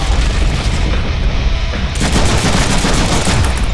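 Pistol fire in the Deadpool video game: a loud, dense string of close shots booming one after another, growing harsher and brighter partway through, with no talk over it.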